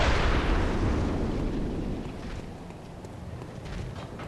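Deep, booming cannon blast from the cannon enemy in Bloodborne's Chalice dungeons, a loud, close rumbling burst that starts strong and slowly decays into a long noisy tail with another faint swell near the end.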